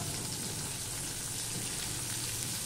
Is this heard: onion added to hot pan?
yes